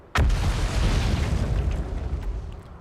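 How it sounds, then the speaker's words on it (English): A loud, sudden explosion in the space exploration game Outer Wilds, a sharp burst followed by a sustained, rumbling roar that lingers for a few seconds with no talking. "What, the explosion?"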